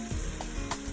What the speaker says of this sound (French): Là, il faut vraiment mélanger pour pas que ça crame en bas